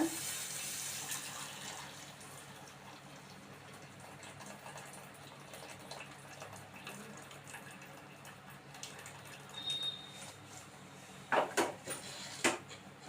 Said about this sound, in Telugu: నీళ్ళు అయితే వంచేస్తున్నాను ఈ పక్కన